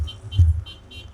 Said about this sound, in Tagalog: Busina ka ng busina.